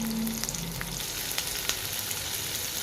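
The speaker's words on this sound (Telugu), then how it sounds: "ఈ ఎర్రగడ్డలు అన్నిటిని కొంచెం సాఫ్ట్ అయ్యే వరకు వేయించుకోవాలి." Onions frying in hot oil in a pan, with a steady dense sizzle that runs throughout and occasional light stirring clicks, close and continuous.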